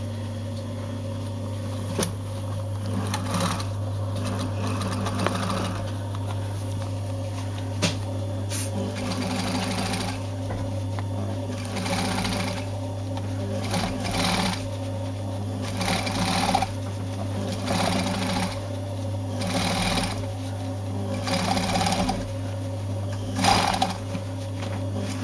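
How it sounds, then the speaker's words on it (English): An overlocker sewing machine seals the fabric edges of a smock cuff, running with a constant loud mechanical drone and steady rhythmic stitching close by for the whole stretch. "So what we do now is put it under the overlocker."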